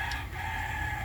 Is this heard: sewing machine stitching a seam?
no